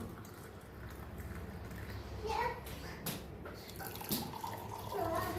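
Grape juice pours into a glass in a home kitchen, a soft trickling, splashing stream close by, with faint voices in the background.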